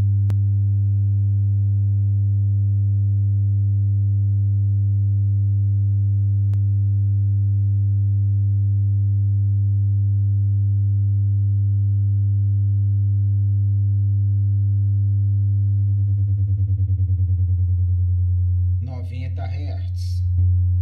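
A steady, loud 100 Hz sine test tone plays through a Pulse Double 12 SP516 party speaker for most of the stretch, holding constant before wavering near the end, where a brief burst of other noise cuts in.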